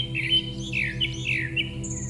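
A small bird gives high, squeaky chirps and warbling calls in quick succession, close and clear, over a steady low background hum.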